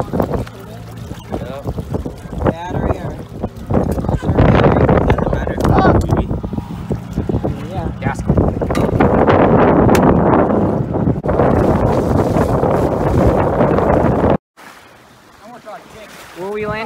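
A small boat motor runs at full throttle around 3 miles an hour, a loud, steady rumble blended with heavy wind buffeting on the microphone, then it cuts out abruptly near the end.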